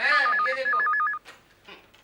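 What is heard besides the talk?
telephone ringing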